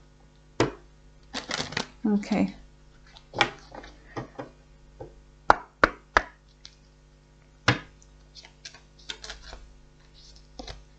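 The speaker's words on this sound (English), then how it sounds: "Let's just do one more little shuffle." Tarot cards being shuffled by hand in bursts of crisp riffling and sharp card taps, close and fairly loud, with brief pauses between; a voice speaks briefly.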